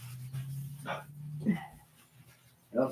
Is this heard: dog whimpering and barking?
yes